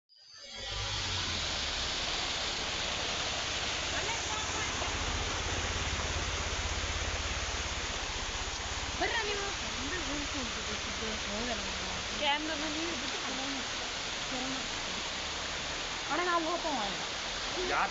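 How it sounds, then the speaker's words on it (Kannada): A small waterfall and stream in the Doranagiri ghat on the Sirsi road rushes in a steady, broad hiss throughout, with faint voices now and then underneath. "ಇಲ್ಲೊಂದು ಜಲಪಾತ ಇದೆ, ಜಲಪಾತ ವೀಕ್ಷಣೆ ಮಾಡೋಣ ಬನ್ನಿ."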